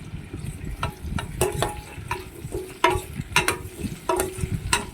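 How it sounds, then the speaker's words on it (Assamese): Soya chunks with ginger paste, tomato and capsicum are stirred in a pan, giving a soft sizzle under repeated scraping strokes of a spoon against the metal, close and moderately loud. "তাৰপিছত অলপ টাইম এইদৰে লৰাই থাকিম।"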